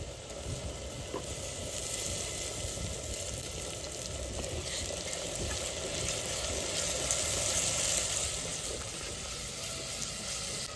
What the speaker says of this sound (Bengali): পেঁয়াজ ভাজা হয়ে গেছে, এবার পেস্ট করা মশলাটা দিয়ে দেবো।